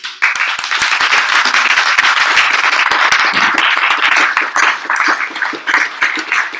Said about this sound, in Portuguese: mas você sabe que bater palmas é uma forma de você limpar o ambiente também.